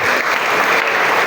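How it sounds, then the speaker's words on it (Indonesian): A classroom of students claps together in a dense, loud burst of applause, steady and close for the whole moment, with no talking over it. "tepuk tangan semua"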